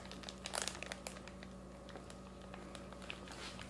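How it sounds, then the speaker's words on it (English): A plastic zipper bag holding marinating meat is squeezed by hand to push the air out, giving faint crinkling and crackling, busiest at first and then sparse, with no talk. "as you work the air out of the bag, it will make the liquid kind of raise up a little bit"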